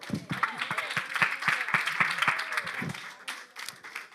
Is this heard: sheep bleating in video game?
no